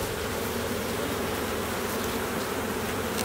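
Honey bees buzzing during a hive inspection, a dense steady hum close to the microphone, with no talking.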